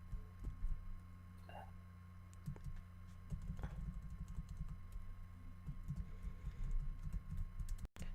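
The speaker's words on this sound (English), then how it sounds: "my awful keyboard that is making it impossible to type things" Someone types on a worn-out computer keyboard, with quick irregular key clacks in bursts over a constant electrical hum. The typing is close and moderately loud, with no speech.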